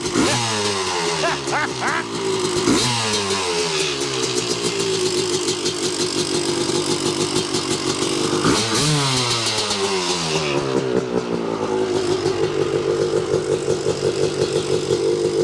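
A 1986 Yamaha YZ250 two-stroke dirt bike engine, fitted with a borrowed carb, runs close by, idling raggedly and revving up in repeated throttle blips before settling into a steady buzzing idle.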